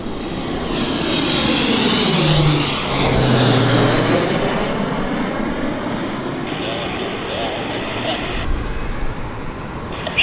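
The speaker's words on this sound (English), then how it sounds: "looks like a King Air or Beech 1900 coming in above my shoulder" A King Air or Beech 1900 turboprop comes in to land at Vancouver Airport, its engine roar and propeller drone swelling and sweeping in pitch as it passes close by, with faint background voices and radio-like chatter.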